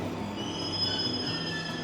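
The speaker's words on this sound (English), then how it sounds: "My train to Nagasaki is here." A JR Nagasaki Line train rolls into a station with high, drawn-out wheel squeals over a low mechanical rumble, steady and moderately loud.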